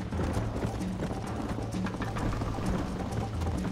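Horse hooves clip-clopping at a steady, rapid rhythm in the Western video game Red Dead Redemption, loud and continuous, with a low rumbling bed beneath and no talk.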